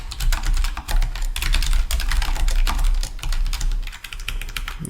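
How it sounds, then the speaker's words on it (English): Fast, steady typing on a computer keyboard, close and clear, with rapid key clicks running continuously and no speech. "I'm then going to type what I want to appear."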